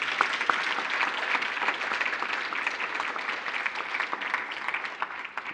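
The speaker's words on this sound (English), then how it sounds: "a round of applause so the picture will look much better" Applause from the audience at a mathematics foundation annual awards function, a dense, steady wash of many hands clapping continuously throughout, fairly loud and without talk.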